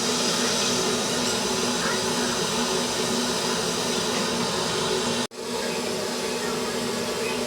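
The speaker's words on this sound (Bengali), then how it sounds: "এই যে সাদা তেল দিয়ে ভাজি" Paratha frying in white oil in a home kitchen, a steady, loud broadband sizzle that runs almost the whole time with one brief dropout near the end.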